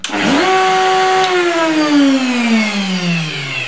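An old household vacuum cleaner used as dust extraction for a router switches on with a rising whine that settles into a loud, steady drone with a slowly falling pitch, close and with no talking.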